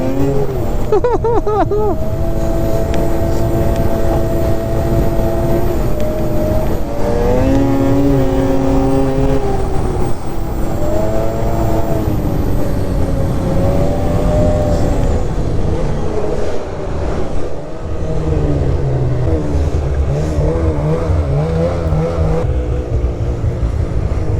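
An Arctic Cat 600 Catalyst snowmobile engine runs loud and close without a break, its steady drone climbing and falling in pitch as the throttle is worked up and eased back.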